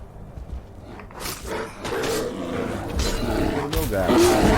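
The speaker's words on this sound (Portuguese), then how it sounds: "Um urso aonde que tá esse urso?" A bear roars in Skyrim during a dungeon crawl, a deep growling bellow that swells louder and closer over a few seconds amid game sounds.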